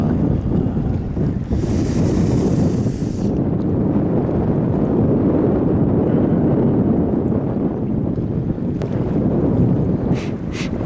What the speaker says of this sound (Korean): 바람이 너무 터진다